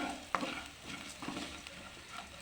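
Puffed rice stir-fries with softened onion and green chilli in a pan. A soft, continuous sizzle runs beneath a sharp scrape of a spoon near the start and a few lighter stirring scrapes after it.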